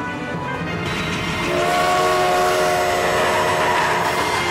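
A train rumbles past close by, a loud steady rolling roar with a sustained horn-like tone rising partway through, and no voices over it.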